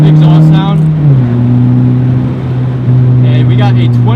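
A Honda Civic Si pulls hard in third gear on a back road, a loud, close engine drone whose pitch steps as the revs shift, with engine noise filling the whole stretch.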